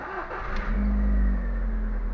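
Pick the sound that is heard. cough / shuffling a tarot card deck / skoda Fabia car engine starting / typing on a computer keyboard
skoda Fabia car engine starting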